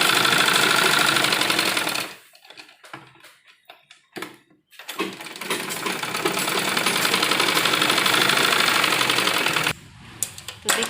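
A sewing machine stitches blouse sleeves in loud, fast continuous runs, breaking off around the two-second mark for short stops and restarts before running steadily again, then pausing near the end.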